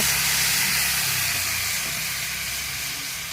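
Spiced curry sizzles and hisses steadily in a pan just after water is poured over the chilli and coriander-cumin powder, a broad close frying hiss that eases slightly toward the end, with no voices.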